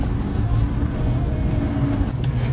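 A Yugo Florida car strains up a steep hill, its engine giving a loud, steady, low drone that fills the whole stretch without a break.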